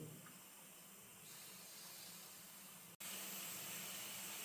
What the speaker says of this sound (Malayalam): കുക്കർ വിസിൽ വന്നിട്ടില്ല കേട്ടോ അപ്പോൾ വരും സൗണ്ട് ഉണ്ടാവുന്നുണ്ട്